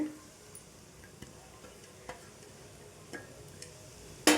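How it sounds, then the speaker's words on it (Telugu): Egg fried rice with vegetables being stirred in a pan, giving a soft, steady scraping and gentle sizzle with a few light clicks of the utensil against the pan and a sharper knock at the end. "ఈ విధంగా వేసేసుకొని మొత్తం కూడా మంచిగా కలిపేసుకోవాలి"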